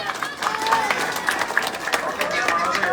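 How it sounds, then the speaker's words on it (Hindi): A crowd claps steadily at a village welcome gathering in Papurna honouring local leaders and a former sarpanch, the dense patter close and continuous with voices mixed in beneath. "तालियां बजाओ, तालियां।"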